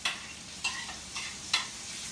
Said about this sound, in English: I'm gonna put all this bacon in here to make the bacon dip.